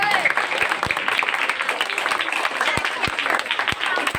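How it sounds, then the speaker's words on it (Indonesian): Children clapping together during a school Ramadan program at an Indonesian elementary school, a busy patter of many small hands with some louder individual claps standing out, lively and close, with faint voices mixed in. "Tepuk tangan dong buat antum semuanya."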